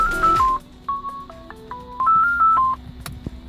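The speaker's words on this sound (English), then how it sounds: "whenever you receive a call, the music stops and the ringtone plays out of the car speakers" A phone ringtone plays through the car speakers of a BMW E46 fitted with an ANYCAR Bluetooth/MP3 adapter on an incoming call: a clear, loud melody of short electronic beeps at shifting pitches, with no voices.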